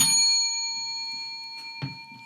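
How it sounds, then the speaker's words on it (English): A bell rings once with a clear, sustained ring that fades slowly, and a second soft strike comes near the end. "you have to ring a bell."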